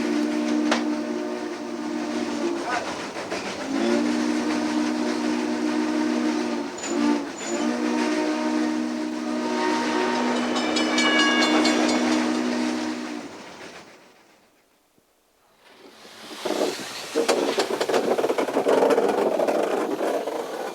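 Steam locomotive 4449, the Daylight, running along the rails: a loud sustained chime whistle blows in long and short blasts over the chugging train, then after a brief pause the rolling rumble and clatter of the train continues.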